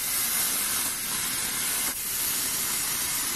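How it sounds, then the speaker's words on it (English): Hairspray sprayed onto hair in a continuous close hiss, with a brief break near the middle before the spray resumes. "then I just hairspray it off"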